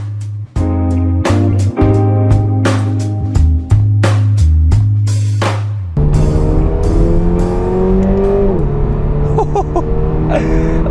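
A Subaru BRZ sports car is driven and maneuvered, its engine note stepping through rhythmic rev changes and gear shifts, then settling into a smoother rising drone with road noise.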